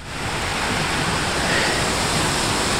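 Creek water flowing steadily on a morning geocaching walk, a constant broad rushing close to the mic, loud and unbroken with no talk.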